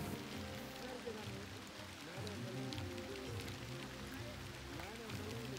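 Steady monsoon rain falls on a rural village near Pune during rice planting, a constant dense patter on wet ground and puddles with a hollow low rumble underneath, continuous and moderately loud throughout.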